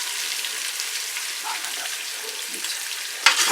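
Boiled goat trotters fry with browned garlic and ginger in a pan, giving a steady, close sizzling hiss throughout with a brief louder crackle near the end, no voices.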